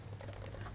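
A command is typed on a computer keyboard at a command prompt as a brief, faint burst of soft, rapid key taps over a low hum.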